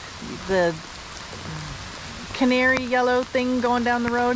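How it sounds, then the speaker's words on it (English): Steady rain falls around a motorcycle rider on the road, a continuous hiss close by while someone talks over it. "Yeah, it's really raining."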